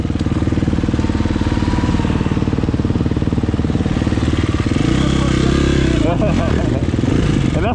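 A Banshee 350 two-stroke quad on paddle tires rides off road, its rapid buzzing exhaust pulsing loud and close, with a heavier revving surge near the end and brief voices over it.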